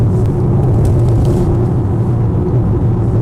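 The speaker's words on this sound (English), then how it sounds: "Do get a little of the normal inline six engine noise." A 2019 Mercedes-AMG GT 53's inline-six engine drones steadily inside the cabin while driving in comfort mode, a loud continuous low rumble with no voices.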